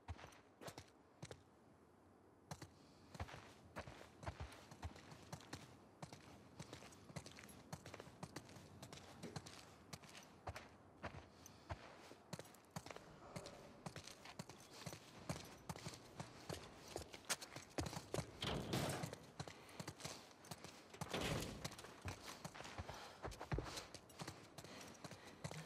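Horses clip-clop along at a steady walk in The Last of Us Part II, with soft, regular hoofbeats mixed with faint footsteps and ambient noise, quiet throughout.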